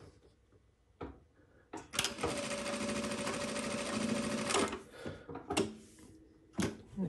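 Juki DDL-900C industrial sewing machine sewing programmed stitches forwards and backwards: a loud, close, continuous mechanical whirr lasting a few seconds, with brief clicks and handling knocks before and after.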